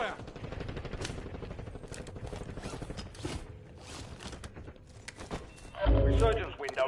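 Call of Duty gunfire during a battle royale match: rapid automatic bursts with mechanical clicks, moderately loud throughout, under game voice callouts and ending in a heavier thump.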